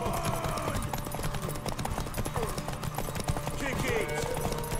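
Horse hooves clip-clop at a gallop in The Witcher 3: Wild Hunt, a steady rapid beat running the whole stretch beneath a dense bed of game music and ambience, with voices from the game mixed in.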